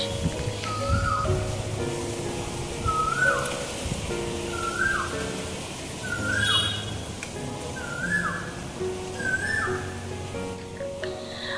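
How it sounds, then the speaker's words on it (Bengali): An Asian koel calls repeatedly from some distance over a rooftop, about six rising whistled notes evenly spaced, against a quiet outdoor background. "ইতিমধ্যেই ছাদে শোনা যাচ্ছে কোকিলের মিষ্টি ডাক"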